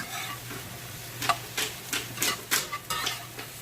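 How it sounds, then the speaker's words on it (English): Mushrooms sauté over low heat in a pan while being flipped, giving a quiet, steady sizzle broken by several sharp utensil scrapes and taps, with no talking. "I'm just going to keep on flipping them and sauteing them"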